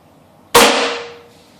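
A Benjamin Armada air rifle fires an H&N Crow Magnum pellet: one sharp, loud crack with a ringing tail that trails off over about a second, alone in quiet surroundings.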